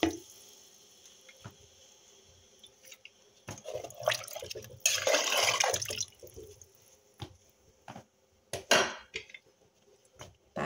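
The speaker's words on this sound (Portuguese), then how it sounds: "Aí agora eu coloco água, naquela vasilha que eu tava usando" Water is poured into a bowl in a home kitchen so the bowl can be washed. The pouring splashes and trickles at moderate volume, mixed with clinks of dishes and handling noise, and no one speaks.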